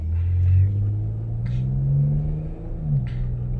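A 2020 Dodge Durango engine growls in a low, steady rumble that swells and eases across the stretch, with a couple of brief higher whooshes on top. It sounds close and fairly loud, with no talk over it.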